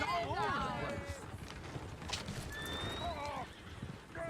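Horses in the video game Red Dead Redemption 2 whinny loudly and repeatedly over steady clip-clopping hooves, with a second neigh rising near the end; game dialogue voices run underneath throughout.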